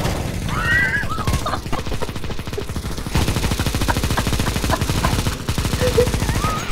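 Rapid automatic gunfire in a Counter-Strike match, dense volleys of shots rattling almost continuously, with brief pauses between bursts and game sounds underneath.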